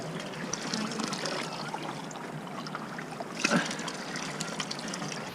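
Fresh spring water trickles and dribbles near Havasupai in the Grand Canyon, a soft, continuous gurgle heard close by and fairly quiet, with one brief splash partway through.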